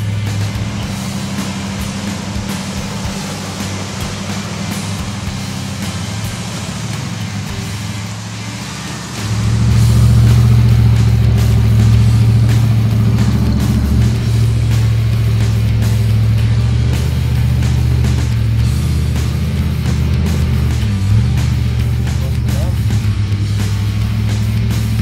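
A 1981 Cherokee ute with a 350 Chev V8, T400 automatic, Dana diffs and 37-inch tyres drives off-road, its engine a loud steady drone that swells into a deeper, heavier roar partway through.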